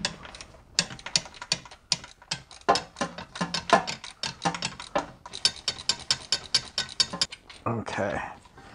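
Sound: ratchet with extension turning a Torx bolt on BMW E46 oil pan

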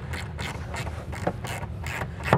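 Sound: tightening an 11 mm bolt with a 1/4 inch ratchet

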